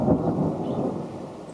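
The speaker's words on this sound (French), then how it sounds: "l'orage a été vraiment clément parce qu'il se met à pleuvoir maintenant" A thunderstorm rumbles with a low, rolling peal as rain begins to fall, the thunder fading over about a second and a half beside a bamboo didgeridoo workshop.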